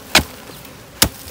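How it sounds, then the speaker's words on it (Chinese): Two sharp, close digging strikes into a soil bank, about a second apart, as earth is dug out to reach a wild bee nest in warm winter weather. "我们继续挖它。"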